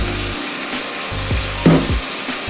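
Oil and a little sesame oil sizzling in a hot pan, a steady bright hiss throughout with a few low thumps and a louder crackle burst partway through.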